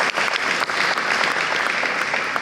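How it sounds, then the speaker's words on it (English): An award-ceremony audience applauds the Indomie heroes, giving a brief burst of dense, steady clapping that stays fairly close and continuous throughout. "A round of applause for our heroes again."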